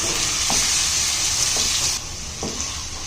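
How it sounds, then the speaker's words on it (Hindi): Chicken fried rice stir-fries with soy sauce in a hot pan, giving a loud, continuous hissing sizzle with a few soft spatula scrapes. The sizzle drops off slightly near the end. "सोया सॉस, बस अब ये ऐड करके हमें इसे अच्छे से मिक्स करना है।"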